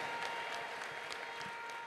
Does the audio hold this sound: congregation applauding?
yes